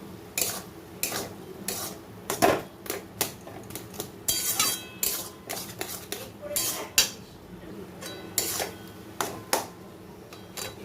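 A spoon stirs cooked Gobindobhog rice in a metal pot, giving repeated clinking and scraping knocks in an uneven rhythm, close and fairly clear.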